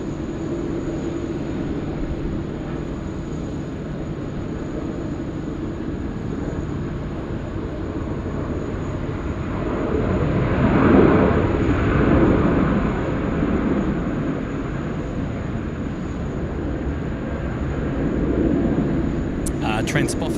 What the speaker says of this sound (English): And Qantas 737 coming in, this one on the milk run